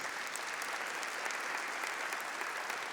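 A church congregation applauding during a Catholic service, a continuous, even wash of many hands clapping, moderately distant and fairly quiet, with no speech over it.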